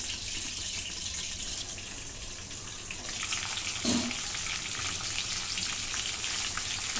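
Bell peppers steam-roast in a covered pan, a continuous hissing sizzle that grows slightly louder midway, with a faint clink of the lid or a spatula.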